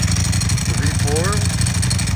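A V4 motorcycle engine fitted with a dry clutch idles with a steady, close mechanical rumble while someone talks over it.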